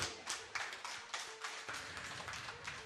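Wedding guests at a Ukrainian wedding's veil-removal ceremony clap in quick, rhythmic bursts. The applause is moderately close and carries on without speech.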